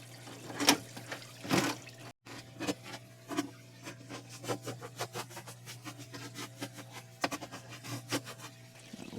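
Chainsaw chain dipped and rinsed in water, soft splashes and drips with small metallic rubbing clinks, close and fairly quiet, repeating irregularly.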